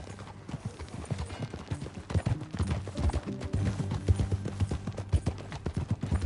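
Horse hooves clip-clop in a steady rhythmic gait in the video game Red Dead Redemption 2, close and clear with overlapping hoofbeats from more than one horse and no talking.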